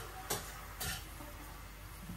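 A spoon stirs spice paste with a little added water in a pan, giving two short scraping strokes over a faint, quiet simmer-sizzle.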